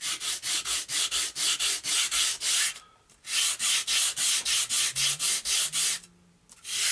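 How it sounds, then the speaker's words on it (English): Ailerons for a GWS Formosa RC plane being sanded to a 45-degree angle make rapid, rhythmic back-and-forth rasping strokes, close and fairly loud, with two short pauses between bursts. "You sand them down to a 45-degree angle."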